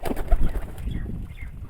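Pigeons taking off with a burst of flapping wings close by, a few soft coos mixed in, then quieter fluttering as they move off.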